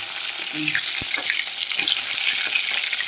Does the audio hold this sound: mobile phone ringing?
no